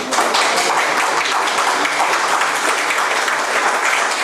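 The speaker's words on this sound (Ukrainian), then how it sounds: "Зараз всі будуть плескати" Steady, dense applause from an audience at the First Migrants Forum of the Ukrainian Greek Catholic Church in Central and Western Europe, loud and sustained throughout without a break.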